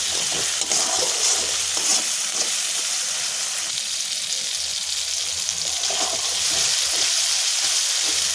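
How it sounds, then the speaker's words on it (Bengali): Spice paste, already cooked down until the oil separates and just sweetened with sugar, fries and is stirred in a pan, giving a steady close sizzle broken by scraping stir strokes throughout. "চিনিটা দিয়ে আবারও একটু নাড়াচাড়া করে নেব"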